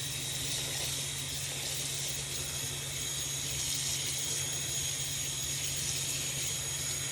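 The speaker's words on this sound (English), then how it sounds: "The first thing we want to do is run a warm water bath for our project" A tap runs steadily, filling a warm water bath for soaking a knitting project, a continuous close gushing stream with no pauses and no voices.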